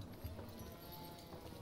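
Horse hooves clip-clop in a fantasy game setting while the horses are led toward an inn, a soft steady patter under constant dense background noise.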